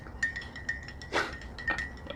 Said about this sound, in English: Stirring the chai with chopsticks using the vortex method,